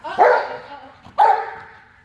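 A dog barks twice during an agility training lesson, two loud, close barks about a second apart, each trailing off with no talking over them.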